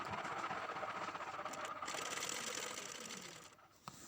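A sewing machine stitching pearls onto an Assamese chador, a fast continuous mechanical whirring rattle close by that slows and stops near the end, with no speech.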